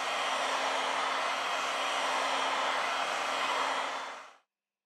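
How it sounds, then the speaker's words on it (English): A heat gun blows hot air onto the screen of a Sony Xperia Z3 Compact phone, a steady, close whooshing hiss that holds evenly for about four seconds before cutting off abruptly into silence. "With the help of a heat gun, we apply 90 Celsius degrees during 4 minutes."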